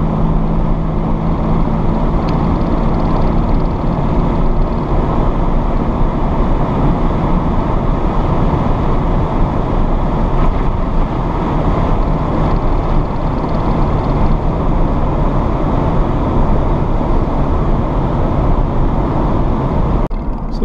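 A 1986 Jaguar XJ-SC V12 drives on the road and accelerates to pass another vehicle without a downshift, a continuous loud engine and road roar heard from inside the car at steady intensity throughout.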